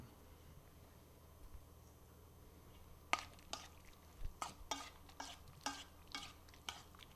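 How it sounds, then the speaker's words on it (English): Close, quiet stirring of wet BLT bruschetta ingredients in a bowl: a spoon clinks and scrapes in an irregular run of soft, moist strokes, with no talk. "I'm just going to go ahead and mix these up"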